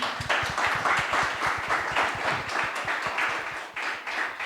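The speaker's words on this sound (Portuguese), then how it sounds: "Vamos aplaudir Jesus." A church congregation claps in steady rhythmic unison, the evenly spaced claps close and moderately loud, with a faint undertone of voices.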